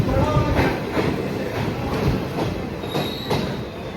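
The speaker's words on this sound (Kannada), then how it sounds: "ಟಿಪ್ಟೂರು ರೈಲ್ವೆ ಸ್ಟೇಷನ್ ಇಂದ ಹೊರಡ್ತಾ ಇದೆ" A train pulls out of Tiptur railway station, its wheels clacking and squealing close by in a steady rhythm, with a few louder rail clanks over a broad rumble.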